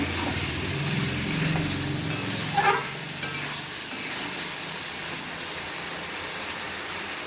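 A ground chilli spice paste fries in a pan, giving a steady close sizzle with scraping stir strokes and a brief louder clatter midway, no voices.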